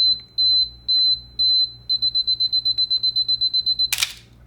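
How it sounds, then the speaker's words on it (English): A camera's self-timer gives a few slow, spaced high beeps, then a rapid run of quicker beeps, and ends with a short burst of shutter noise. The sounds are close and clear against a quiet room. "this one kind of sets it on a timer, right? So it'll take a picture here in a second."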